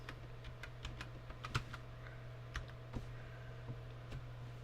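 Typing on a computer keyboard while searching in Windows 11: sparse, irregular key clicks spaced across the stretch over a steady low hum, close to the microphone, with no voices.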